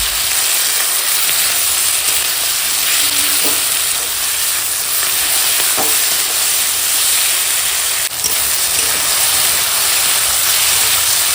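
Vegetables and potato sautéing with salt in a hot pan give a loud, steady, close sizzle and hiss that runs unbroken throughout, with no voices.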